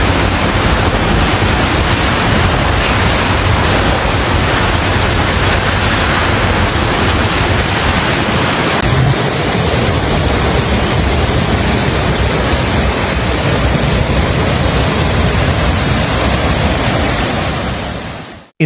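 Powerful storm waves from Super Typhoon Uwan crash onto coastal roads in a loud, constant roar of surf and wind, dense and unbroken throughout, with the wash shifting slightly halfway through.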